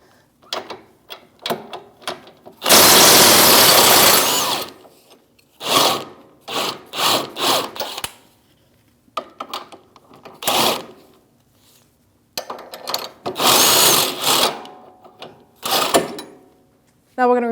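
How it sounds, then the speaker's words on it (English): Wrench and socket work on a 21mm lower rear shock bolt and nut of a 2016-2025 Chevrolet Malibu, giving bursts of ratcheting and metallic scraping with one long grinding stretch, in close repeated spurts separated by pauses. "So we're going to remove our lower shock bolt and nut, 21mm wrench and socket."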